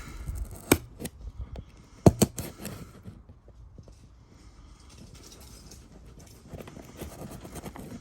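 Sharp cutting snips during a radio install in a C3 Corvette, trimming an eighth of an inch: two or three crisp, loud clicks early on, then quieter rustling and handling noise.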